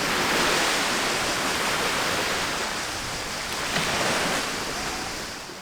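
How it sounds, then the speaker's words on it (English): Waves wash onto a small local beach at the tip of Sithonia in Chalkidiki, a continuous broad surf roar that swells and eases slightly, close and fairly loud, with no voices. "Here we stumbled upon a very local beach."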